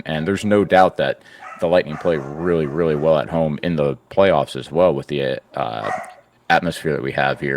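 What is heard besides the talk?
dogs barking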